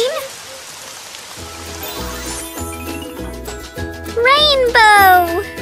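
A soft hiss of falling rain opens briefly, then gives way to a voice and bright, plinking musical tones.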